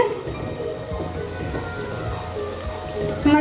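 Sattu kachori deep-fry in hot oil, a dense, steady crackling sizzle like heavy rain that carries on throughout, with a faint voice at times.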